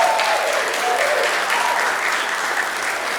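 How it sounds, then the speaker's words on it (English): A comedy club audience at a live stand-up show gives itself a round of applause: loud, continuous, dense clapping and cheering throughout, with no talk over it. "Give yourselves a round of applause."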